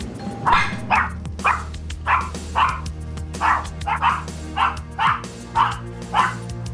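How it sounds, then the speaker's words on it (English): Two Maltese dogs bark in a steady run of about a dozen sharp, high-pitched yaps, spaced roughly half a second apart, close and loud indoors over a low background hum. "All dogs can bark very loudly, but the two Maltese, their bark is very, very high-pitched"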